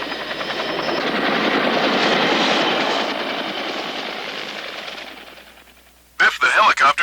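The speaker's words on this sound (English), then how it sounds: "the helicopters have turned off their motors" Helicopter motors run as a radio play sound effect, a steady throbbing roar that swells, then fades away before a voice starts speaking.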